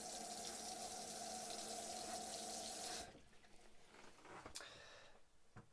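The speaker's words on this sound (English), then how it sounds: "Again, there's your hot water." Hot water gushes steadily from the tap in a 2024 Adria Twin Sport 600SX caravan, then cuts off after about three seconds, leaving faint drips and small clicks in a quiet room.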